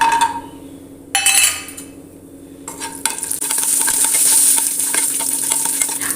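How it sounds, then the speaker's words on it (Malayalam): Hot ghee with fried cashews goes into cooker sambar rice: metal clinks and stirring at first, then a sudden loud, sustained sizzle close up, with no talking. "നമ്മൾ കുറച്ച് നെയ്യ് ഇതിൽ വെച്ചിട്ടുണ്ട് ലേശം അണ്ടിപ്പരിപ്പ് ഇതിൽ വറുത്തിട്ട് അതും കൂടി ഇതിലേക്ക് ഒഴിച്ചു കൊടുക്കാം"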